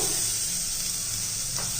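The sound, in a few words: chopped onion frying in a pan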